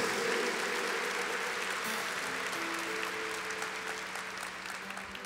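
Congregation clapping during a church service, a thick continuous wash of applause with faint sustained tones underneath, gradually fading a little toward the close.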